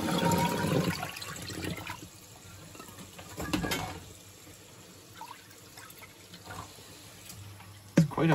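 A Bosch WFP3300 washing machine heavy with limescale takes in water after a spin, giving a steady rushing inflow with trickling and splashing that eases off, with a sharp knock near the end.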